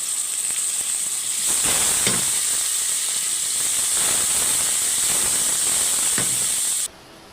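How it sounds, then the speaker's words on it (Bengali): Onion, chilli and garlic paste fries in hot oil with a steady, loud sizzling hiss, broken by a few soft clatters of a spoon in the pan before the sound cuts off abruptly. "পেঁয়াজ মরিচ দিয়ে দিলাম, অল্প কিছুক্ষণ ভেজে নেব।"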